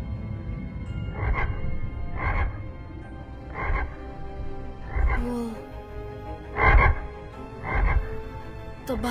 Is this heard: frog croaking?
yes